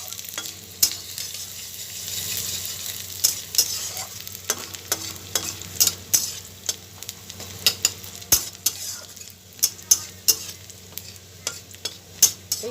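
Drumstick leaves frying with chopped onion and garlic in a pan, a steady close sizzle broken by frequent sharp scrapes and taps of a spatula stirring, with no talking.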